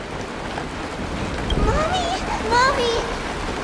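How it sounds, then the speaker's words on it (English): Steady hiss of rain falling in the video game Honkai Star Rail, continuous through the scene, with a voice calling out loudly over it. "The rain! It's raining!"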